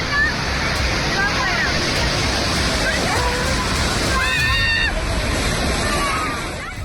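Broad, steady rush of a waterfall near Bhushi Dam in Lonavala, Pune, continuous and fairly loud throughout, with voices and shouts mixed into the noise.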